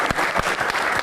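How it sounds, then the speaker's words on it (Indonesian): Studio audience applause greets the guest stars of a televised Q&A program, a dense, loud patter of clapping with a few sharper hits standing out in the brief burst. "Kita berikan tepuk tangan untuk bintang tamu kita."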